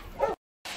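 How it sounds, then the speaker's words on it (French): A dog gives one short, close bark, then silence, then a bit of background room noise. "excusez-moi, c'est mon chien."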